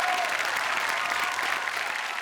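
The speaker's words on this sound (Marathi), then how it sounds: "जोरदार टाळ्या प्रथमेश परब यांच्यासाठी" Studio audience applauding guests on a Marathi comedy talk show stage, a steady, dense wash of clapping from a large crowd that holds evenly throughout with no voices on top.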